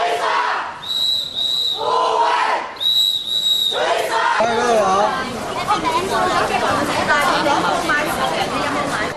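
A noisy crowd at the Hong Kong Book Fair, with loud shouting and cheering voices overlapping, some whistle-like tones early on, then a dense babble of excited people rushing forward.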